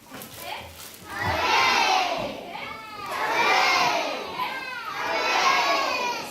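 Excited children's crowd cheering and shouting at an Easter service, waving palm branches in a Palm Sunday scene; three loud swelling waves of massed young voices, rising and falling in turn.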